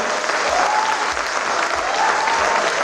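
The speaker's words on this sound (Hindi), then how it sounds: "एक बार सारे लोग हाथ उठा के ताली बजाएं" A crowd at a kavi sammelan poetry recital claps loudly and continuously in a thick wash of applause, with faint rhythmic thumps and a tonal whine underneath, heard close and unbroken by talk.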